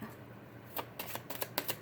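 Playing cards being shuffled by hand, a quiet run of crisp riffling bursts in quick clusters after a brief pause, close and faint, with no talking.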